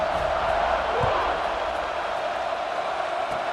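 A stadium crowd at a College Football 26 game roars in a broad, steady wash of noise, loud and continuous throughout with no clear breaks.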